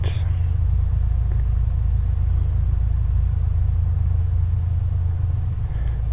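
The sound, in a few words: Piper Comanche 250 engine at 2,000 RPM, A2A flight simulator game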